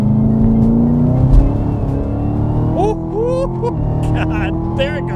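A 2018 Chevrolet Camaro ZL1 accelerates hard, its engine roar climbing in pitch as it takes off, with excited voices talking over the steady, loud drone.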